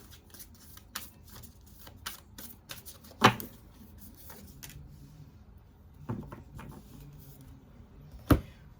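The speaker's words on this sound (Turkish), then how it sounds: "Buna da bir tane kart alacağım." Playing cards are shuffled and handled on a table in several quick riffling bursts with small taps and slaps between them, close and fairly quiet, with sharper snaps near the middle and the end.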